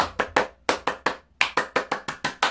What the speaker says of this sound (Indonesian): Yeay, tepuk Pramuka.